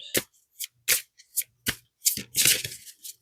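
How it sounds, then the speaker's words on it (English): Oracle cards are shuffled by hand in a series of crisp, close riffling bursts, separated by short pauses and ending in a longer flurry. "I know y'all like hearing the shuffling on here."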